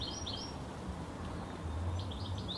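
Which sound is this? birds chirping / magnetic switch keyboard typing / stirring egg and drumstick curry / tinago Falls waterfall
birds chirping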